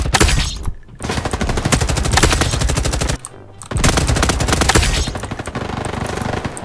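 Suppressed automatic gunfire in Roblox Call of Duty, long rapid bursts of shots that are loud and close, broken by two brief pauses, with no talking.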